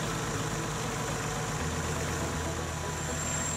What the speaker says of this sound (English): For the final PTO test, start the tractor.